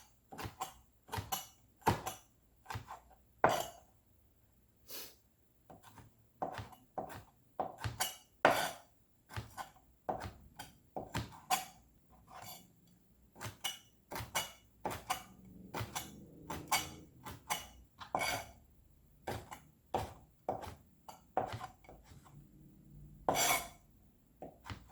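A knife julienning hot peppers on a cutting board makes quick, crisp taps in fast irregular runs, close and fairly quiet, with short pauses between bursts.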